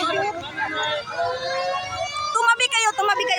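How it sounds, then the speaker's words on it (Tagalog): A fire truck siren wails with rising and falling tones, fairly close, while people talk loudly over it at a burning utility pole. "Ayan, mayroon pang isang bumberong dumating."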